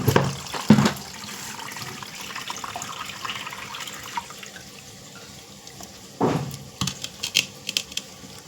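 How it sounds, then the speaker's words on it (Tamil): Dissolved tamarind water poured into ground spices for a Thirukkai (stingray) fish kulambu, running as a steady liquid stream and splashing, then stirred, with a couple of brief louder clatters near the start and later. "இப்போ கரைச்சி வச்சுருக்க புளியை இதில் ஊற்றி கலந்துடலாம்"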